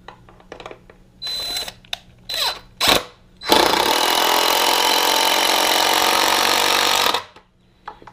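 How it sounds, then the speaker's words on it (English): A power driver sinks lag bolts into a wooden heavy-duty floor dolly: a few short whirring bursts, then one long loud steady buzzing drive of about four seconds that stops abruptly, close up with no talking. "Start putting in our lag bolts."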